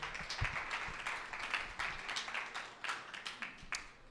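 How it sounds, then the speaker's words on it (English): A crowd applauding steadily, a dense wash of many hands clapping at a fairly even level for several seconds, with no voices standing out. "Warm round of applause for Alan Minsky."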